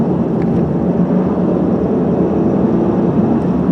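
A 2002 Ford Taurus SES engine drones loudly and steadily while driving, a continuous low rumble with road noise heard from inside the car and no distinct breaks.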